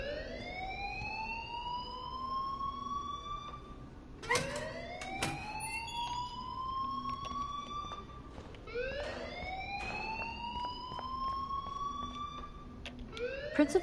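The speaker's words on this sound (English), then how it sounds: "please turn off that alarm since that's your job" An alarm rings in the video game Life is Strange, a repeating rising electronic siren-like wail that sweeps up again and again at moderate volume, with faint background sounds.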